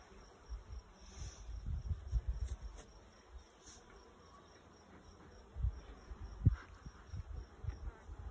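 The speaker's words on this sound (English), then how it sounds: "Lots of bees up here." Honey bees from an opened hive buzz in a soft, steady drone at close range, swelling and fading as the insects move, with a few light knocks and handling sounds.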